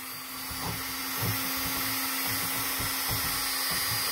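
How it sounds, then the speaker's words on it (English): A Dremel 3000 rotary tool works slowly on the plastic of an Aqueon Deluxe LED aquarium hood, giving a steady high whine with faint rhythmic grinding pulses as the bit melts through, close by and alone. "just using the Dremel to melt the plastic."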